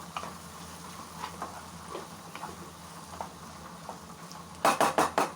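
Fried okra cooking in a pan over low gas gives a faint, soft sizzle with scattered light stirring taps, then a quick burst of louder metallic scrapes near the end, close up and with no voices.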